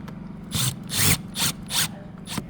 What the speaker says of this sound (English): Put longer screws in while I'm up here.